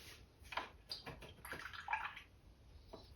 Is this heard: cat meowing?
no